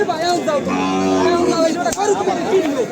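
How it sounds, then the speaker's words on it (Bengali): Cow and calf mooing at a village cattle market, a loud close drawn-out moo with rising and falling tone over faint crowd babble. "এই জায়গায় আমরা একটা গরু দেখছি"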